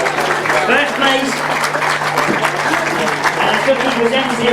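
A crowd claps steadily and fairly loudly at a grasstrack racing award ceremony, the applause holding even throughout with no voice over it.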